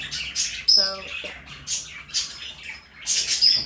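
Pet budgies in their cages giving short, bright chirps and tweets in scattered bursts, close by, with a brief spoken remark partway through.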